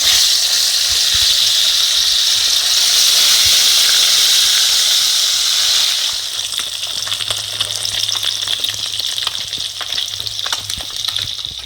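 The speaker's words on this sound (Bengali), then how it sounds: "এই তো আমি মাছ ভাজছি" Fish coated in turmeric and salt fries in hot oil, a loud, steady close-up sizzle and hiss that eases after about six seconds into a softer bubbling with scattered crackles.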